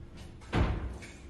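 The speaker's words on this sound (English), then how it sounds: "Door slams." A door slams shut on a film set in Bristol, a single muffled thud in the middle of a quiet stretch, heard at moderate distance with faint room tone around it.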